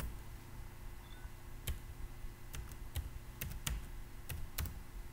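A login is typed in English on a computer keyboard, with irregular clusters of crisp key clicks over a steady background hum, close-up and without speech.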